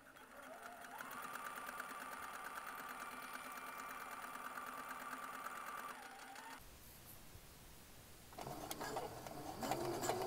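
A sewing machine stitches a collar on a McCalls 8241 garment at a 5/8 inch seam, running a steady mechanical whir for several seconds, pausing briefly, then starting again with rapid stitching, close and clear.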